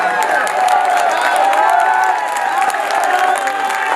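Loud, sustained applause and cheering from a large audience at a mushaira poetry recital, continuous dense clapping with shouts and whoops mixed in throughout.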